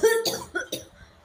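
A person gives a quick series of three or four sharp, close coughs lasting about a second, with no talking over them.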